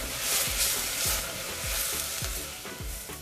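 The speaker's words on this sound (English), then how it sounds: "If you are frying onions" Steady sizzling of food frying in a pan, with repeated scraping strokes of a utensil stirring at a regular pace, close and fairly loud.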